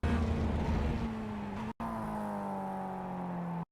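A Mazda MX-5 race car engine in the iRacing game drones steadily at sustained revs, with a brief cut around a gear change before the tone resumes and holds until it stops.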